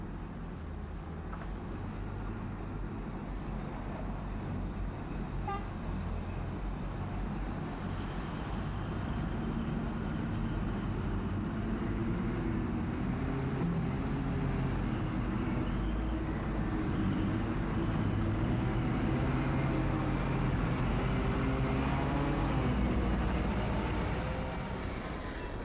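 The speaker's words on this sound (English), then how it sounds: "The freshly blasted limestone is then loaded into Caterpillar dump trucks, each as high as a double-deck bus" Huge Caterpillar dump trucks, each as tall as a double-deck bus with rubber-suspended bodies, haul freshly blasted limestone in a quarry, giving a steady, heavy low engine rumble that continues throughout.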